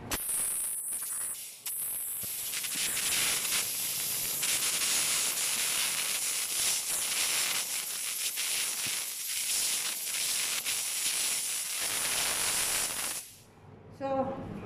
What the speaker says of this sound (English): ang tawag dito sa machine ay steam jet